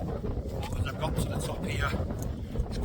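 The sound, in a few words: wind on top of Pendle Hill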